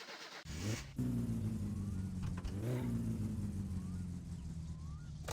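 Satsuma car engine in My Summer Car cranking and starting after a short silence, then settling into a steady close idle with a brief rev midway.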